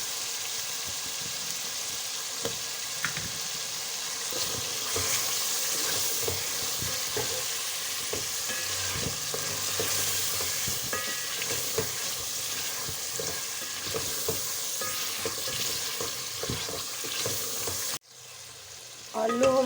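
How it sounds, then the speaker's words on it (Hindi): Cut potato pieces fry in a spiced masala, giving a steady close sizzle with intermittent stirring scrapes and clinks, ending in a short knock. "आलू हमारे फ्राई हो गए।"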